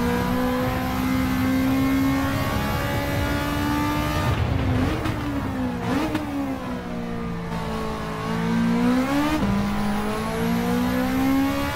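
A Toyota AE86 in Gran Turismo 7 runs hard around a track, its engine buzzing loud and close, dropping in pitch on downshifts under braking and climbing again as it accelerates out of corners.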